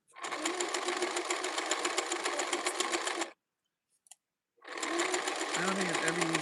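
Sewing machine stitching upcycled denim with tan thread, running in steady loud bursts that stop for about a second and then resume, close by with no talk over it.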